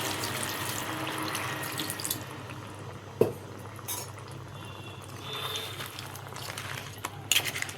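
Water is poured into a crab curry, a steady running, splashing pour that carries on through the clip with a louder clatter near the middle and occasional clinks, with no talking.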